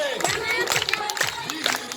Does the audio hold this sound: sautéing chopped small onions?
no